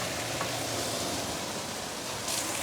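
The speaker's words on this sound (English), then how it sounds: "Give it a few stir." Cabbage and rice frying in a pan crackle with a steady, close, hissing sizzle as they are stirred, uniform throughout, with no talk.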